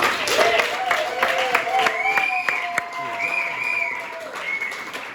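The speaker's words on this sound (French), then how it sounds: "Est-ce qu'on peut acclamer le Seigneur?" A church congregation applauds the Lord during a Sunday worship service in Orléans, steady clapping running throughout with voices and singing mixed in.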